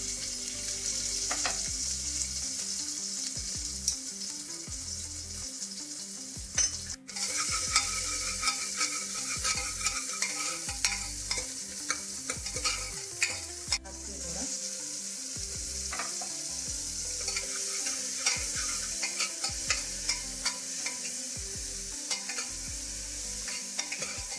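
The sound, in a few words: onion added to hot oil, frying and sizzling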